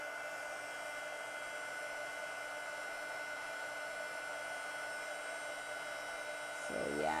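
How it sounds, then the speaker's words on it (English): A heat embossing tool blows hot air in a steady, even whoosh with a constant motor whine, close and fairly quiet, and a brief bump of handling near the end. "I wasn't sure with the heat tool if you guys could hear me."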